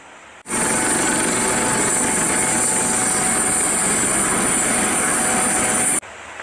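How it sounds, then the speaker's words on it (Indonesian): Loud, steady broadband whir of a police helicopter's rotor and engine, constant and close for several seconds, with no voices. "Ini helikopter polisi."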